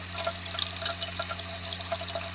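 Tap water runs steadily and splashes as it rinses ink off a Speedy Carve carving block in a sink, a close, continuous hiss with faint drips.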